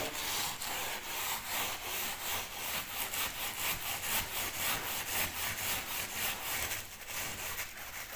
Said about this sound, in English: I've now got this steel wool, stainless steel wool, which I'm just going to rub over